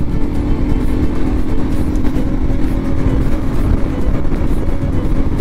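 Close-up, continuous engine roar from a motorcycle running with an aftermarket air filter and stock exhaust. The loud, steady low rumble holds without a break throughout.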